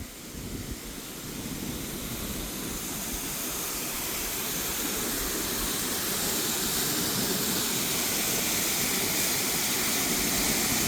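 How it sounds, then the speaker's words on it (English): Mirror Lake waterfall at Blanchard Spring roars in a loud, constant broadband rush that builds slightly at first and then holds steady, with no voices. "waterfall"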